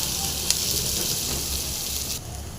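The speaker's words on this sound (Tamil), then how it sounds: "இது வெங்காயத்தாளில் எடுத்த வெங்காயத்தை போட்டுடலாம். இதையும் போட்டு நல்லா ஃப்ரை ஆகட்டும்." Spring onion bulbs frying in a pan give a constant, even sizzle and hiss up close, with a couple of faint pops. The sound eases slightly near the end.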